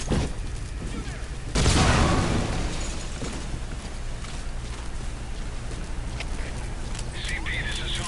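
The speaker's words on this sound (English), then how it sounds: "Explosion spotted. Damage unknown." A loud explosion bursts out early amid constant gunfire and rumbling battle noise in Metal Gear Solid V, with voices talking over the steady din.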